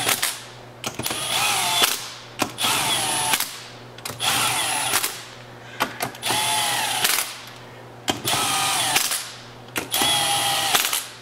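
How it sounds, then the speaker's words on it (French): A small quarter-inch power screwdriver runs bolts into a Ski-Doo snowmobile engine crankcase, giving about six loud whirring bursts, each a second or so long, broken by short pauses and ending in sharp clicks. "Moi, j'utilise ma petite visseuse d'un quart."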